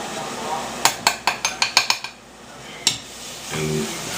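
Chorizo burrito filling with butter and garlic being stirred in a pan, a quick run of about seven sharp utensil clinks and scrapes against the pan, then a single later clink, close and fairly loud, with a short voice near the end.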